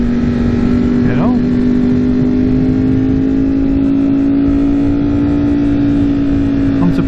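A 2021 Ducati Streetfighter V4S fitted with an Akrapovic exhaust pulls hard under acceleration, a loud, steady, high-pitched engine drone with a rising whine throughout, heard up close from the rider's position.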